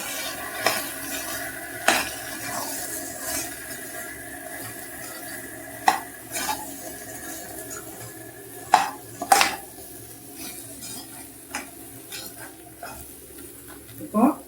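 A utensil scraping and clinking against a pot as vegetables and ground masala for sambar are stirred, with occasional sharper knocks over a steady background hum.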